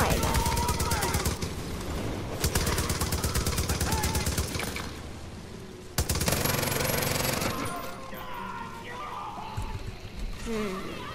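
Rapid gunfire in Far Cry New Dawn, dense bursts of automatic shots in loud stretches separated by brief lulls, with game effects between volleys.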